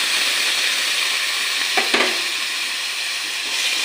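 Malabar spinach leaves dropped into a pan of scrambled egg, giving a steady, close hiss and sizzle of frying, with a couple of brief stirring scrapes midway.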